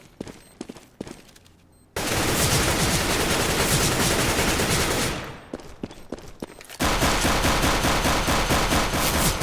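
Gunfire in Counter-Strike: Global Offensive, sparse single shots giving way to long, loud, continuous bursts of automatic fire, a pause with a few more shots, then another sustained volley; no talking.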